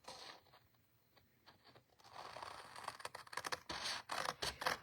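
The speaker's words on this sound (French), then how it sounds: "je prends mes ciseaux." Scissors snip through paper while a pop-up box is cut open, a quiet series of sharp crisp clips and rustles that grow busier and denser toward the end, with no voices.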